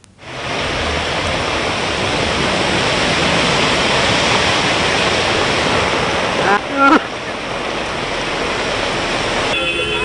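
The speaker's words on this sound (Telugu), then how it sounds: "జంట నగరాలను మరో భారీ వర్షం ముంచెత్తింది." Heavy rain pounds down over flooded streets in Hyderabad, a dense steady roar of falling water and runoff that holds loud and unbroken for the whole stretch, with a brief rustle near the end.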